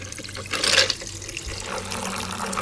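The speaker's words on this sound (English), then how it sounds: "now I'm ready to pour the delicious Rambutan lemonade" Rambutan lemonade is poured over ice into a glass, a close splashing liquid pour with a bright burst near the start, then a softer trickle and faint clinks of ice.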